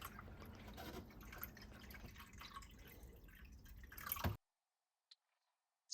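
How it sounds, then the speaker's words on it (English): Water pours into the reservoir of a Breville espresso machine with a continuous splashing trickle for about four seconds. It cuts off abruptly, and a couple of faint clicks follow. "And let's fill up the water reservoir."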